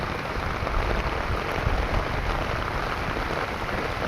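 Rain falls steadily, making an even, dense patter with a low rumble underneath and no voices.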